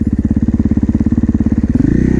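A supermoto motorcycle rides over a bridge, its engine throbbing in a close, loud, steady rapid beat that shifts pitch near the end as the bike changes pace.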